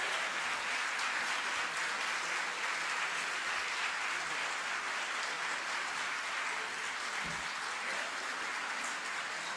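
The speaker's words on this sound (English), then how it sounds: "Give a big round of applause," Audience at an Ayuryog Expo closing ceremony applauds the youngest speaker of a scientific seminar, a steady, fairly faint wash of clapping that holds evenly throughout without a break.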